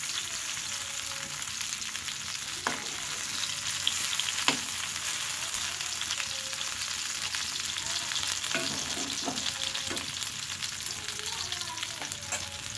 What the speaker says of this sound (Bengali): এইভাবে উল্টিয়ে পাল্টিয়ে বারবার ঘুরিয়ে ফিরিয়ে ভেজে নিতে হবে।